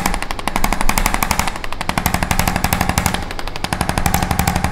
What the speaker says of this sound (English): All right, I got the power tools.